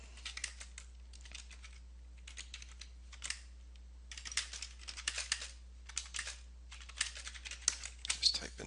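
A Git commit message typed on a computer keyboard, quick bursts of light key clatter separated by short pauses, close and fairly quiet over a low steady hum.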